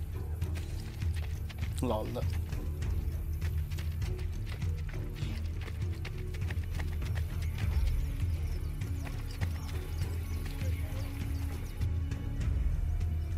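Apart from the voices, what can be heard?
horse galloping in a video game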